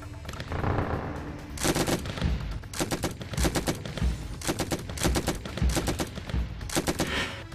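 Rapid bursts of gunfire crackle in repeated volleys, loud and close, like sustained automatic fire in a sound effect.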